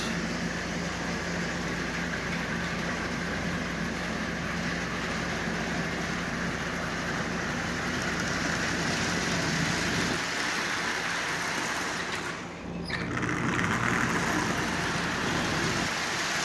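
A Lionel 8142 toy train locomotive runs steadily while pulling 11 cars, giving a continuous close whirring rumble with a faint hum, briefly dipping near the end before resuming at the same level, no voices present.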